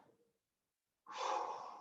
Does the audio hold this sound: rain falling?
no